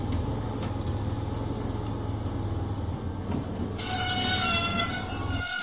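A diesel engine train runs in a Thomas and Friends video game, a steady low rumble and chug throughout, joined near the end by a bright, tonal whistle-like layer of game music.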